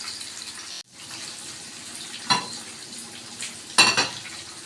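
Mutton chops fry in a pan, giving a close, steady hiss of hot oil broken by a sudden brief dip and a few louder sizzling bursts.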